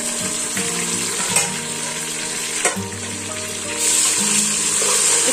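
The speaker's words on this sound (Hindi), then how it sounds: "इसको अब हम थोड़ा भुनेंगे।" Green chillies and ginger-garlic paste sizzle steadily in a pan with fried onions for a Hyderabadi moong dal khichdi, a continuous close frying hiss broken by a few soft stirring clinks, with no talk.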